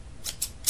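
Scissors snip three times in quick succession, short crisp cuts standing alone in a quiet room.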